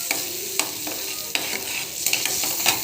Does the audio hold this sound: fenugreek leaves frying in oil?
yes